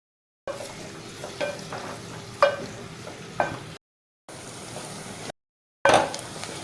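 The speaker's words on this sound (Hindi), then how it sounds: "ये मैंने प्याज काट के रख लिए हैं और अब मैं इसमें ऑयल डालती हूँ" Chopped onions frying in oil in a pan for keema, a soft steady sizzle with intermittent stirring clatters, broken by brief gaps.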